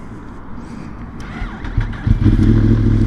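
A motorcycle is ridden in California, its engine a steady close rumble that swells and grows louder toward the end as it pulls away, with no talking.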